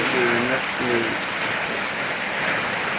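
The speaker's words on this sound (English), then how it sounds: "The rain is too much." Heavy rain pours steadily outdoors during a live stream, a dense, loud, even hiss throughout, with a brief voice-like sound early on.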